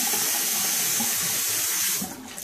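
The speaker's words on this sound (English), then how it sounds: "I'm gonna do a cold water rinse." Cold water runs steadily from a bathroom tap into a sink for a post-shave rinse, a loud, close broadband splashing that holds even for about two seconds, then thins as the flow is cut back.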